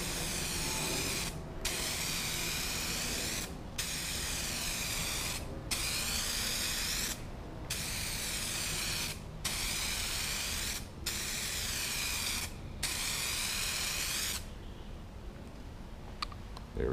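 A spray can laying a thick clear coat onto a car headlight, about eight sustained hissing bursts of one to two seconds each, separated by short gaps, close and steady, with no talking.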